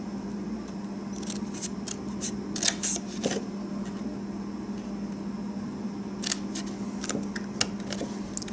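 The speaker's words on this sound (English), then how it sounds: "So I'm going to go ahead and cut those off." Scissors snip through the material of a Valentine treat box in two scattered bursts of short, crisp cuts, close by, over a steady low background hum.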